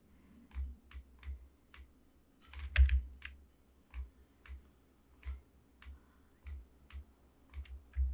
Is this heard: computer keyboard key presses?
yes